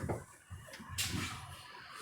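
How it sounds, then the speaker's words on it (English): Doors closing on a new King County Metro battery-electric articulated bus, heard as a few short pneumatic hisses and thuds at close range with a rattling bump midway, over a low steady interior hum. "Go ahead and push them to close the doors."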